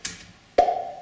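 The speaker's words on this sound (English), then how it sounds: "Now we have a couple of cool plop sounds." Two short plops, the first soft and the second sharper with a brief ringing tone, separated by a pause.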